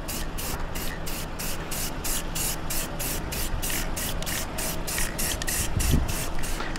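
Tire shine coating is sprayed onto a car tire in a rapid series of short, steady hissing bursts that run continuously and close to the can, with one brief low thump near the end.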